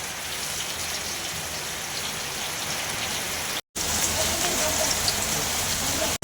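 Heavy rain pours down in a dense, steady hiss, close and loud, broken only by two very brief drop-outs.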